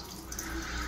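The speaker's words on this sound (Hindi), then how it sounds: "देख सकते हैं बहुत सारा पानी गिर रहा है भाई।" Water pouring out of a homemade aquarium top filter, a soft, close trickling and splashing that carries on steadily through the short moment.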